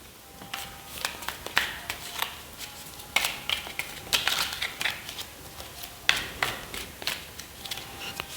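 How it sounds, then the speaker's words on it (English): Tarot cards being shuffled close up, a run of crisp riffling bursts and soft slaps in an irregular rhythm, fairly quiet, with no talking over it. "let's shuffle the cards and let's get into reading"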